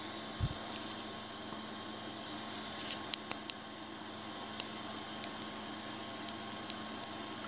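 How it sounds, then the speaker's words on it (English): Steady whir of a 3D printer's hot-end cooling fan on a Rostock Max v2, a constant airy hum with faint scattered ticks and a soft thump near the start, no speech. "Let's get a look at that peak fan in action."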